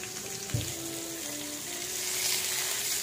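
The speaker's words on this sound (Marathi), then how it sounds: "आपण आता याला फ्राय करायला साधारण 5-1 मिनिटं आपण असेच ठेवूया।" Bangda mackerel fish frying in a pan, a steady close sizzle and crackle with one brief clunk near the start, no speech over it.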